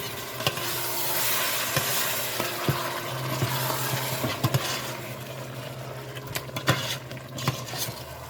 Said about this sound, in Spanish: Y ahí él sigue sofriéndose.